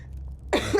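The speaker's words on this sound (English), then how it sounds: "I'm sorry, I need to cough." After a moment of quiet, a single person gives one sharp, close cough that ends in a short rasp.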